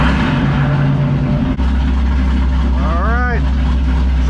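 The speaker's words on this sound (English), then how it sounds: "All right, let's fire it up and go for a test drive." A Dodge Viper on a test drive after a radiator replacement gives a loud, steady engine drone from inside the cabin, with a brief dip as it shifts and a short warbling whine near the end.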